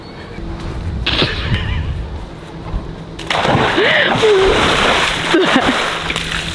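Someone jumps into freezing water on a llama farm, giving a brief splash followed by heavier churning and sloshing, with short voices breaking in.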